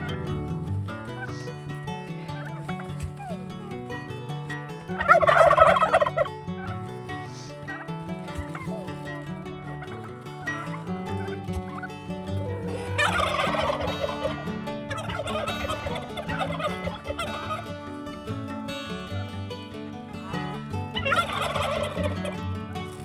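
Turkeys gobble and chickens cluck at feeding time on a small farm, with repeated loud gobbling bursts standing out from steady close-by clucking and rustling.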